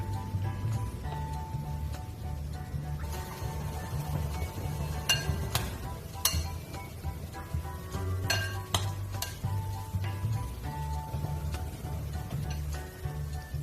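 Fermented mushroom naem balls fry in oil with a soft, low bubbling hiss, broken by sharp clinks and scrapes of a ladle or spoon against the pan as balls are added one by one.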